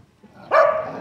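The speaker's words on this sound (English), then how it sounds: "That's the first time I heard a dog bark, I think." A single dog bark, loud and close, sharp onset after near-quiet, with a short trailing tail.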